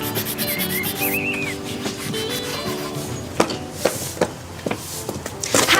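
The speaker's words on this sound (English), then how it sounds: "I'm exfoliating" Rubbing against a statue's surface as if exfoliating its skin, heard as a run of scraping, sanding-like strokes with sharper rasps toward the end, fairly close, over a background of music with a whistled tune.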